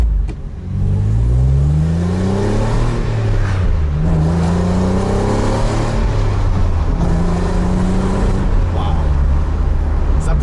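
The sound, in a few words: Renault Clio V6 car engine accelerating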